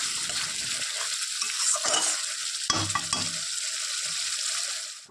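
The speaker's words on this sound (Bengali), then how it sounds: "তো ওটা দিয়েও একটু নেড়ে চেড়ে দিচ্ছি আর ভালোভাবে কষিয়ে নিচ্ছি।" Mutton masala with Kashmiri chili powder being stirred and fried in a wok, with a steady sizzle under scraping spoon strokes and a few louder clunks near the middle, no voices.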